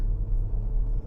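A Range Rover Velar SUV's engine rumbles low and steady from the cabin, a brief muffled drone as the turbocharger comes on under acceleration.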